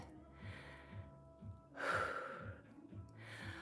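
Heavy breaths during a home total body workout, a few deep audible inhales and exhales at close range, with faint rhythmic thumping music underneath.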